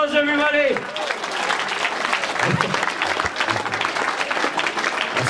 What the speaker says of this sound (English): Give me a round of applause, everybody